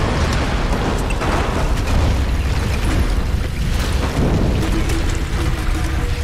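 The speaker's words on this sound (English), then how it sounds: "That's gonna explode." An explosion in Tomb Raider (2013) roars loud and sustained, a dense rumbling blast with crackling debris that fills the whole stretch without easing off.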